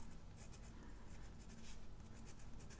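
A blue gel pen writing on paper, a steady soft scratching that runs continuously at close range with no one speaking.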